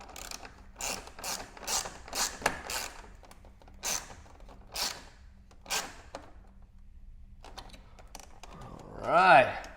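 Wrench ratcheting as a radiator grill bracket bolt is tightened, a run of quick clicking bursts with brief pauses, close and moderate, ending in a louder rattle.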